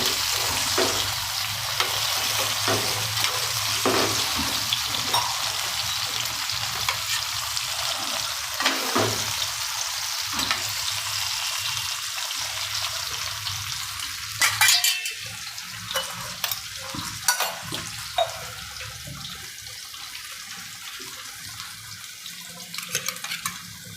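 Stuffed drumsticks cook in a hot pan for a Gujarati curry, sizzling steadily while a spoon stirs and scrapes in repeated sharp clinks and knocks, with no talking.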